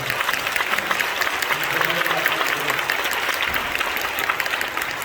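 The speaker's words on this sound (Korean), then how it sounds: "여러분 감사의 박수를 해주시면 좋겠습니다" Sustained applause from an audience at a Korean War veterans' appreciation prayer gathering, steady dense clapping filling the whole stretch at moderate loudness with no voices over it.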